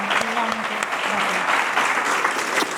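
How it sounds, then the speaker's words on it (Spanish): A short burst of dense, lively audience applause at a cultural event in General Belgrano, Argentina, with a few voices audible among the clapping. "Aplauso grande."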